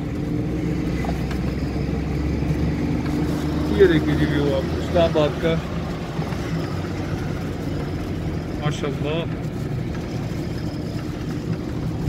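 A Suzuki Mehran pulls uphill in third gear on the Margalla Hills road in Islamabad, its engine giving a steady, strained drone that runs throughout under ongoing conversation.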